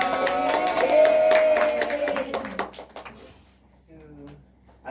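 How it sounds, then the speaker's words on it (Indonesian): A seventh-grade junior high class applauding during a micro-teaching lesson, with a burst of quick, overlapping claps and lively voices for a couple of seconds, then tapering off into quieter murmuring. "Oke, tepuk tangan semua."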